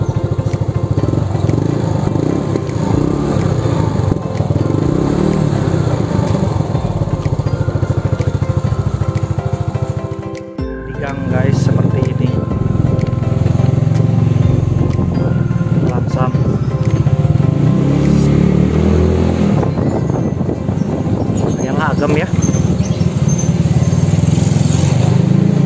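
A Yamaha Mio motorcycle fitted with a bored-out aftermarket exhaust idles with a deep, steady rumble, then revs and surges after a brief dip near the middle. The loud, continuous engine drone runs throughout, with people talking underneath.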